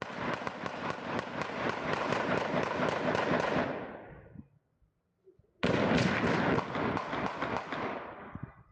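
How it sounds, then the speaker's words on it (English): Rapid bursts of gunfire, more than 40 shots, crackle in a long dense volley, fall silent for about a second, then resume just as heavily. "More than 40 gunshots can be heard."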